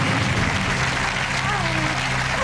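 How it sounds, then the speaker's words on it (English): A game show studio audience applauds and cheers loudly in a dense, continuous wash of clapping, with voices mixed in. "The crowd are going wild."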